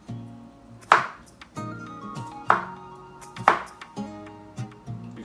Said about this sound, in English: You can chop the garlic up too.